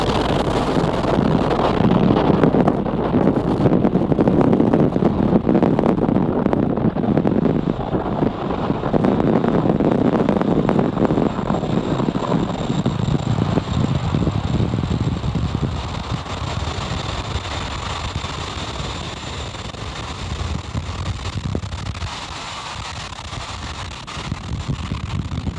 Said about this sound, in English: And liftoff Falcon 9, go transporter 11.